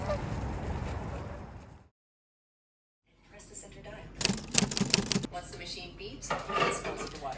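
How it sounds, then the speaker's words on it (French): Several geese honk in a burst after a quiet pause, loud and clustered, with rustling background noise before and around the calls. "On dirait bien que c'est des oies."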